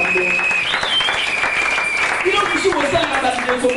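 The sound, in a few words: church congregation applauding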